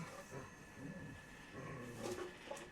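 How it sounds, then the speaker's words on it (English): A dog growls softly and intermittently in low, rumbling bursts while it scratches its back, quiet and close with some faint rustling between the growls. "if you guys hear the dog growling"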